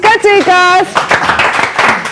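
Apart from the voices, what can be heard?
audience applause for a clarinet player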